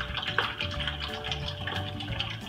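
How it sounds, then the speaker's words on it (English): Cold water runs from a tap into a container of whole-chicken brine with a steady, close gushing fill that keeps a faint tonal ring throughout. "We're gonna fill it the rest of it with cold water, just until the chicken's fully submerged in water."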